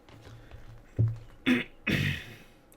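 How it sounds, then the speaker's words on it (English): Three short, light coughs in quick succession, close to the microphone, with quiet room noise between them. "Excuse me for the light coughing there."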